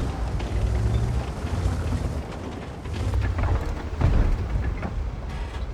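Heavy tank cannon fire in a tank video game, from an Indian-Panzer tier VIII medium tank: deep booming blasts over a constant rumbling engine-and-battle backdrop, with a sharper, louder shot near the middle.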